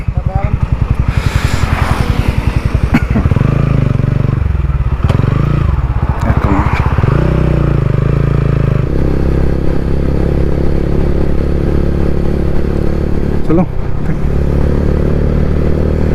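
A motorcycle on a rainy Amritsar to McLeodganj ride is kick-started, its engine sputtering to life and then idling and revving loudly up close, with people talking over it.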